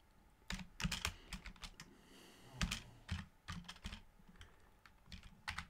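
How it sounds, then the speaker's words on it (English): Someone types on a computer keyboard while writing POV-Ray code, with irregular bursts of crisp key clicks close up, some quick runs and short pauses between them, heard alone without talking. "I'll explain these after I've finished typing them."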